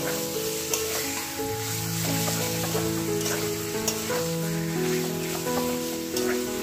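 Chicken pieces marinated in salt, turmeric and mustard oil fry in a pan with a steady, loud sizzle and crackle, with occasional stirring scrapes.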